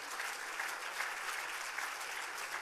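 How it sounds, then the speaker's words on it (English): A crowd at an awards event applauds steadily, a dense wash of clapping that holds at an even level throughout. "thank them as you bow to thunderous applause"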